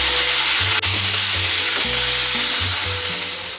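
Chicken and tomato paste cooking in a pan, a loud continuous sizzle with a rhythmic stirring and scraping of a spoon against the pan, close up and without talking.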